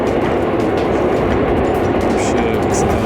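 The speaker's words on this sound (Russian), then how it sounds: "Оценим прибытие электрички." An electric commuter train near Pripyat rumbles past close by with steady loud clatter and rolling noise, the wheels and cars filling the whole stretch without pause.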